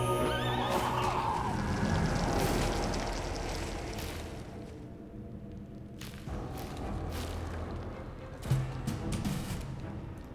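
A horse neighs in the fantasy RPG Pathfinder: Wrath of the Righteous, a loud whinny at the start followed by lower snorts and shuffling hoof thuds amid ongoing battle ambience.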